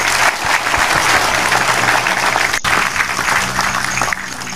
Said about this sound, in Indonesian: tepuk tangan untuk Mas Silop